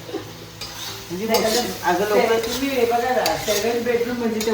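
Kanda poha, made with red onion, is stirred and fried in a large pan, giving a close, steady sizzle with repeated scraping strokes of a spoon against the metal.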